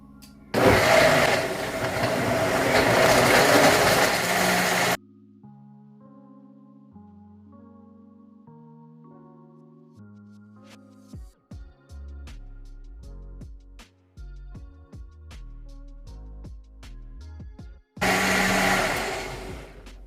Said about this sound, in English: Oh my god, my blender is amazing, guys.